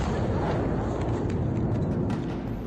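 A missile strike explosion levels a large building in central Kharkiv, heard as a dense, sustained roar and rumble with crackling debris throughout, loud and close.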